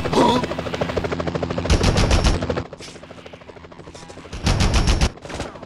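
Rapid bursts of helicopter gunfire aimed at Spider-Man in the 2001 Spider-Man video game, two loud sustained volleys separated by a quieter stretch, over a continuous game background.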